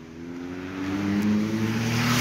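Cars pass along a village road in the small hours of a weekend night, a steady engine hum that grows gradually louder as a vehicle draws near, with no voices.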